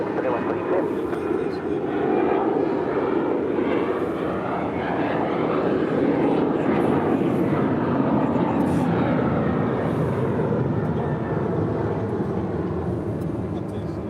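A loud, continuous jet engine roar fills the air at LAX airport, swelling and holding through the passage of a nearby aircraft, with a voice talking over it.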